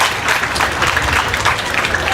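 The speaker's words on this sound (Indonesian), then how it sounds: "Kita akan beri aplaus kepada Pak Bupati." An audience applauds the regent at an opening session in Aceh Barat, with dense, sustained clapping from many hands throughout.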